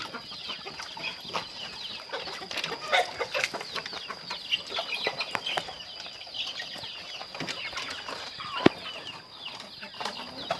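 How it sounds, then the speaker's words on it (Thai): Small chickens cluck and peck while eating Napier grass, with soft irregular clucks, rustling and occasional wing flaps at moderate distance, fairly quiet overall. "ไก่เล็กก็กินครับบัดนี้ครับไก่ตัวเล็กก็กิน"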